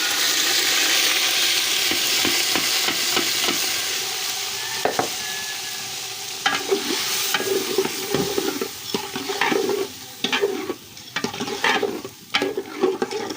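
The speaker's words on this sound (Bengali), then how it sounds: "তো চাউলটাকে আমি একদম ভালো করে কষে নেব।" Biryani rice with ginger-garlic paste stir-fried in a pan, a continuous close sizzle overlaid by repeated scraping and knocking strokes of a spatula that grow more frequent and uneven toward the end.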